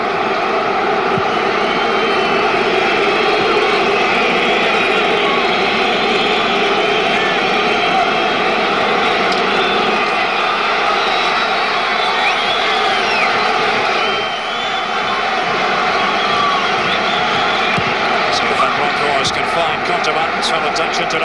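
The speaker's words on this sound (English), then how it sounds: "Deafening noise being generated by the Celtic supporters now." Celtic supporters in a football stadium at a Celtic v Rangers match sing in a loud, sustained, droning roar, with a commentator talking over it.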